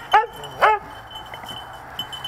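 Two sharp yips from a sled dog before a bikejoring run, close and loud, followed by quieter whimpering against a low outdoor background.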